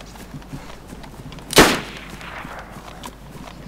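A single gunshot in the video game DayZ cracks out once, moderately distant, with a short decaying tail against quiet background noise.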